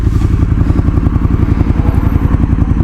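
A custom Triumph Thruxton R street tracker motorcycle rumbles close and loud, its engine throbbing in a fast, even rhythm of deep pulses while riding.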